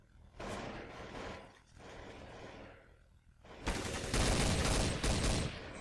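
An M4 rifle with an ACOG scope firing in Counter-Strike: Source on de_dust, heard as sustained loud automatic gunfire in two bursts, the second heavier and closer, with no talk over it.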